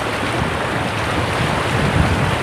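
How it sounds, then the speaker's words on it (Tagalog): A strong river current flowing through a forest in the rural countryside, heard as a loud, dense, continuous rushing wash of water close to the microphone, with no voices. "Pero ganyan lang kalakas ang agos yan eh."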